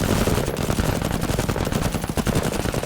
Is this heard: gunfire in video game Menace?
yes